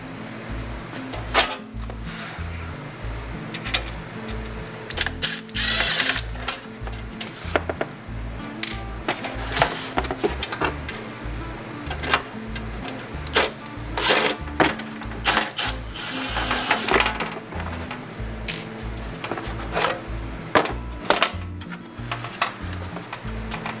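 Allen screws being backed out of the faceplate of a dbx DriveRack 260 loudspeaker processor, a steady close-up run of small metallic ratcheting clicks and taps over a low background hum.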